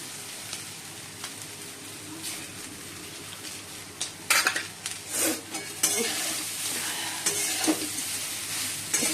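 Flattened rice (chire) pulao with raisins is stirred in a pan, with a steady sizzle under intermittent scraping strokes that get busier midway, close and moderately loud.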